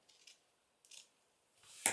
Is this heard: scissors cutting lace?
yes